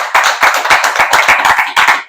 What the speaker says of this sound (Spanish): yo creo que merece un aplauso, Gonzalo, ¿no?